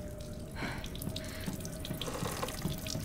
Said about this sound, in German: Der Wasserhahn läuft auch wieder.